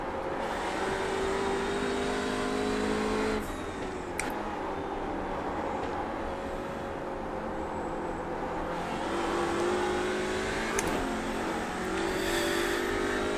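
Audi RS 3 LMS race car lapping Mid Ohio in iRacing, its engine droning steadily and loudly throughout with rising and falling pitch through gear shifts, no talk.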